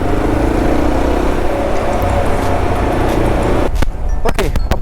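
A 2025 Yezdi Adventure motorcycle rides along a road, its steady engine drone and road rumble continuous and close before dropping off near the end.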